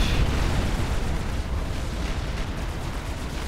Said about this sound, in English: That was a big explosion.